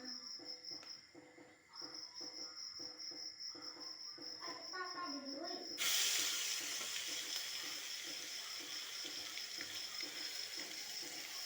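Ginger-garlic paste and onion hit hot oil in a wok with a sudden loud sizzle that keeps crackling steadily, following a quieter stretch of clattering and chirping insects.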